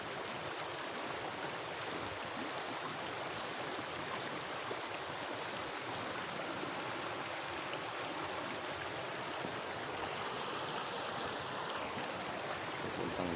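A deep stream flows steadily toward the sea, giving a continuous, fairly faint rushing wash with no breaks and no voices.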